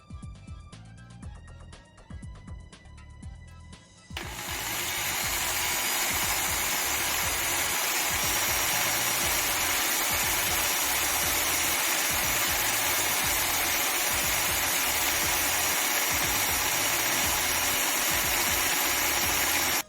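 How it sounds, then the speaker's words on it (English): An electric drill spins the oil pump shaft of a 1969 Kawasaki H1 Mach III through rubber tubing, a steady loud whir running on without a break after a quieter start of about four seconds. "I used an electric drill and rubber tubing to turn the oil pump shaft."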